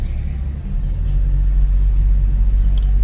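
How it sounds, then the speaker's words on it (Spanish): Heavy street traffic on Avenida Juárez in central Texcoco, with road works and closures, makes a loud, dense, continuous low rumble of engines close by. "qué desmadre de tráfico"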